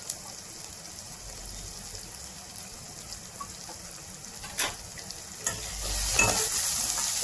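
Turmeric, red chilli powder and homemade masala frying in oil, a faint steady hiss with a couple of sharp spoon clinks, then a louder burst of sizzling near the end as the spices go in.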